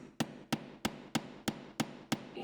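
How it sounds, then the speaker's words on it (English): Hammering grommets into placemat stays: eight evenly spaced sharp metallic strikes about every third of a second, close and clear, each ringing briefly before the next blow. "the peaceful, calming sounds of hammering in grommets"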